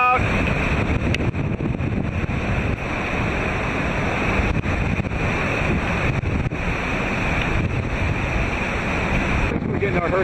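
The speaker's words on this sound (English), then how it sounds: "We're getting our hurricane gust." Hurricane wind roars across the microphone alongside crashing surf on a Caribbean coast during Hurricane Dean, a loud, dense and continuous rush with buffeting gusts, and people can be heard faintly beneath it.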